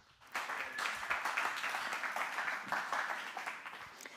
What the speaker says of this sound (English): But until then, golf clap for Pastor Hannah.